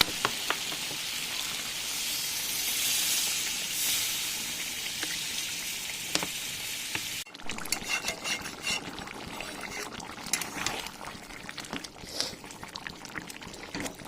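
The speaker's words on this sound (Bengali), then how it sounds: "এবার আমি দিয়ে দেবো এর মধ্যে জল" Water poured into a pan of fried, oil-releasing meat curry brings a hissing, rain-like sizzle that shifts abruptly midway into crackly, irregular bubbling, close and moderately loud.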